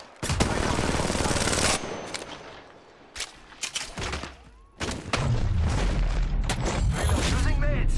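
Loud close machine-gun bursts and shots in the mobile battle royale game Apex Legends Mobile, with a long rapid volley, a quieter gap of scattered shots, then another sustained burst, under in-game voice callouts.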